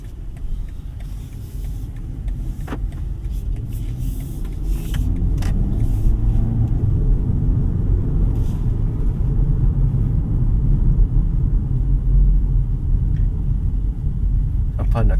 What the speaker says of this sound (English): Upon acceleration, you can hear the 2-liter 4-cylinder doing its job